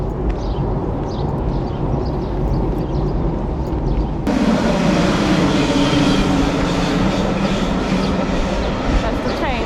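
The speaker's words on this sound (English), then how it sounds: "Ah, that's a long distance train." An X2000 long-distance train passing through a Stockholm park area, a loud continuous rumble and rolling rail noise close by that grows heavier midway, heard from a walking route with outdoor ambience.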